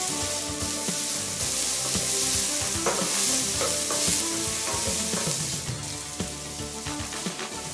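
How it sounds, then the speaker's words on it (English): Chopped onion and garlic sizzle in hot olive oil in a medium pot over high heat, a steady close frying hiss with repeated stirring scrapes throughout, no voices. "In a medium pot over high heat, add olive oil. Saute the chopped onion,"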